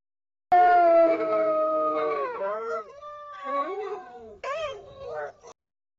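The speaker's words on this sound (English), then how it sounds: "Get some wolves howling again." AI-generated wolves howling, made with Audiocraft AudioGen: a long sustained howl starting abruptly, then bending, wavering howls and yelps that rise and fall, loud and close, alone before stopping.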